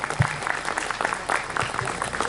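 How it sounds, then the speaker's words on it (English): An audience at a Republic Day celebration applauds after a speech, with dense, loud clapping that carries on steadily and has a few louder swells, and faint voices underneath. "Give a thunder of claps, encouraging speech, commendable speech, sir"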